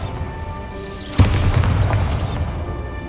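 Bombarda blasting spell going off in Hogwarts Legacy: a rising whoosh, then a sudden deep boom with rumbling debris that fades over about two seconds, loud and close, with no talking.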